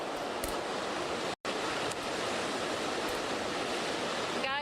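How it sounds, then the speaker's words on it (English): Powerful hurricane wind gusts roar steadily and loudly across Ocean Drive during Hurricane Irma, a dense continuous rush broken by one brief dropout. "It's very, very windy out here right now."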